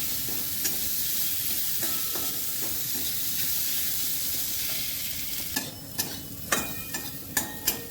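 Soaked mung dal fries with spices in a pan, giving a continuous soft sizzle and hiss, then a run of sharp spoon clacks and scrapes against the pan toward the end.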